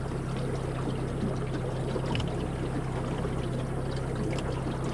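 River running high and hard below Blowering Dam, a steady, dense rush of water that stays constant and loud throughout with no voices.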